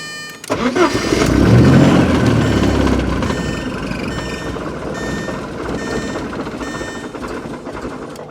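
A 1984 Porsche 944 engine being restarted: a loud close starter crank bursts into a rough rumbling that swells, then settles into a steady, uneven idle drone that carries to the end.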